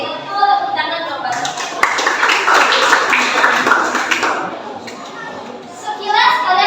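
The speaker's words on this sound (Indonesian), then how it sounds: "Tepuk tangan coba." Children in an elementary classroom clap together in a dense, lively round lasting several seconds, mixed with their excited chatter and voices.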